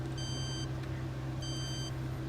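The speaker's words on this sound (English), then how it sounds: "there's like a beeping, backing up noise when you go backwards" Two bursts of high electronic beeping, like a reversing alarm, over a steady low engine-like hum, from a grabber vehicle moving backwards in the video game Space Quest III.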